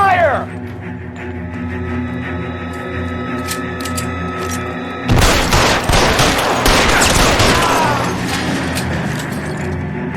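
Heavy covering gunfire in the video game LA Noire on PS5, a dense burst of overlapping shots and mechanical clatter erupting midway and staying loud over steady game ambience, with a voice calling out before it.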